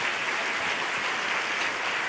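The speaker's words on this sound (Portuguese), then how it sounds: "Pode aplaudir o Senhor." A church congregation applauds during a Sunday sermon, a dense, steady wash of clapping that holds at an even level from start to finish with no voices rising above it.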